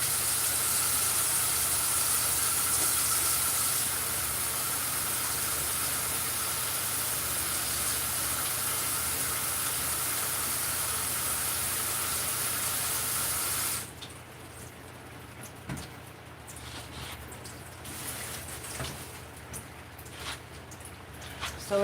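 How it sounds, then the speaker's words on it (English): Garlic, onion and overripe tomatoes sizzle in a pan, a steady loud hiss that runs for over half the time before dropping to a quieter simmer with faint clinks. "So I just sauteed here garlic, onion, overripe tomatoes."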